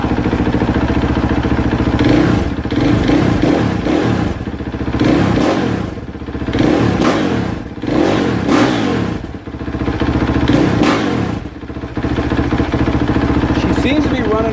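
A KTM 450SXF dirt bike engine runs loud and close after a hard start, revving up and down in repeated surges over a steady idle, with mechanical clatter and a worn starter clutch.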